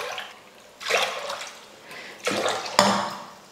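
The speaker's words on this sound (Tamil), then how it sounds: "இப்போ தண்ணி ஊற்றிக்கலாம்." Water poured from a vessel into a pot of 1.5 measures of rice in a home kitchen, three separate splashing pours of a second or so each, close and fairly loud, with a brief clink at the start of the last pour.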